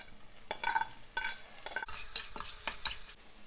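Okra (ladies finger) stirred in hot oil in a pan, with soft sizzling under a series of scraping, clinking spoon strokes in an uneven rhythm, faint and close.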